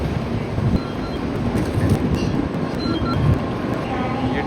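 Japanese Shinkansen Hikari bullet train at a station platform, a steady loud rumble of the train with rail noise and platform ambience throughout, with some voices faintly in the background.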